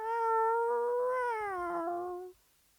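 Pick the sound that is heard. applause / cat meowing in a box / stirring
cat meowing in a box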